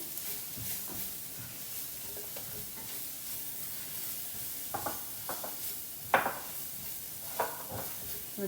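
Mushroom and spring onion fried rice being stirred in a pan, with a low steady sizzle underneath and a few short, sharp scrapes and clinks of the utensil against the pan, near and moderately quiet.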